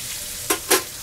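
A New York strip steak searing in a hot pan, a faint steady sizzle broken by two short louder bursts of crackle close by, with no voices.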